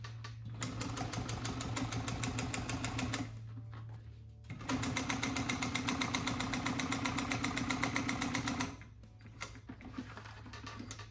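A sewing machine stitches a French seam in two fast, rapid-fire runs of buzzing needle strokes, each a few seconds long, with a short quiet pause between them.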